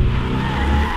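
Tires squeal as a BMW i5 M60 xDrive electric sedan brakes hard, a loud, sustained screech over heavy low road rumble lasting the full second.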